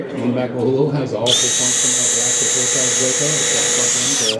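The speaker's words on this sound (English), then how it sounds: "With one drill bit, we are going to drill a hole." Someone talks briefly, then a power drill whines at high speed drilling a hole, steady and loud for several seconds before spinning down, with speech continuing underneath, at the National Hardware Show 2025 in Las Vegas.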